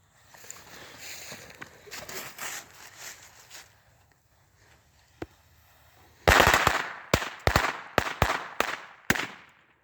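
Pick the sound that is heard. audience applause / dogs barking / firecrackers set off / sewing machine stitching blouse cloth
firecrackers set off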